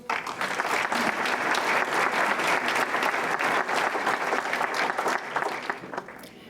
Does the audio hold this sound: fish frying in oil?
no